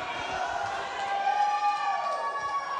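Wrestling crowd at an HWA show cheering and roaring steadily, a dense, moderately loud wash of voices with a tonal whistle-like line drifting through the middle.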